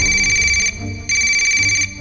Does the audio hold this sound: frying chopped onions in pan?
no